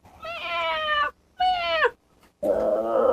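A person imitating a cat at a live improv comedy show, three drawn-out meows with short pauses between them, loud and close with no other talk.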